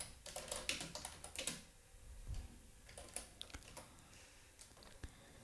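Quiet typing on a computer keyboard while writing Python code, with irregular clusters of light key clicks and a few heavier taps over several seconds.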